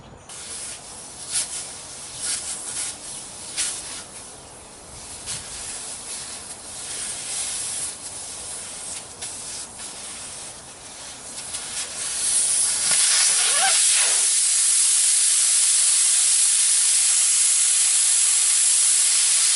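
Air escapes from a truck tire valve stem as the core is removed: light rustling and handling first, then a sudden loud, steady hiss that keeps rushing out.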